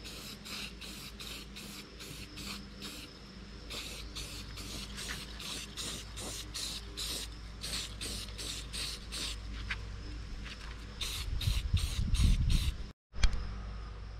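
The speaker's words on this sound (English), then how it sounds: "Now I spray the whole fish with white primer." A spray can of white primer hisses in many short bursts over a fiberglass bass replica, a rhythmic series of sprays close by, followed by some handling noise.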